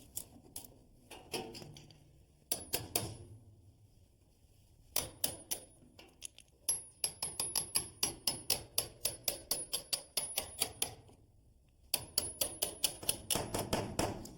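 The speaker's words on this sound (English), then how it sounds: "using my chisel, I'm just going to remove this piece right here" A chisel removes a piece of wood from a garage door jamb post, heard as bursts of rapid, close, sharp taps and knocks in uneven runs separated by short pauses.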